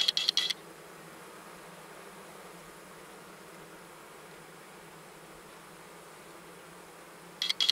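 A steady, low buzzing hum of many bees from a queenless, drone-laying colony fills the clip, with brief brighter rattling bursts at the very start and end.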